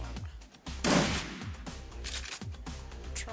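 A gunshot in the Shadowrun video game, a sharp burst of loud gunfire followed by a few quieter impacts and a hum of game ambience.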